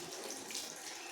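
Tap water runs over shoes to wet them before hand washing: a steady, soft, even hiss of flowing water, fairly faint and close, with no voices.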